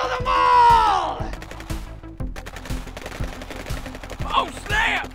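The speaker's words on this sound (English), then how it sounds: "Open fire! Kill them all!" Rapid gunfire rattles through an action-movie scene of commandos fighting sharks, in fast repeated bursts alongside shouting and other movie sound, loud and close.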